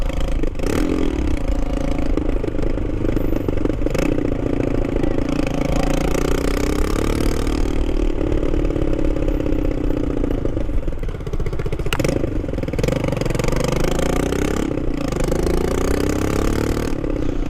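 A Superlight motorcycle engine runs with its exhaust cancelled and partly wrapped in exhaust wrap: a loud, close, continuous throbbing drone with rattly clatter and a few brief surges, with no talking.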